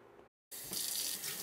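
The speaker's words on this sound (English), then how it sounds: "Rinse off your spoon." A spoon rinsed under a running kitchen tap while making split pea soup, faint water hiss that cuts out briefly then returns as a steadier, slightly stronger splashing stream.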